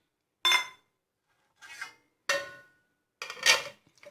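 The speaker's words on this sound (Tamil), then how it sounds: "ஐஸ் க்யூப்ஸ் ஆட் பண்ணிக்கிறேன்." Ice cubes dropped into a mixer jar already holding ginger and sugar for watermelon juice, landing as four separate bright clinking bursts spaced over a few seconds, close and fairly loud with no talking.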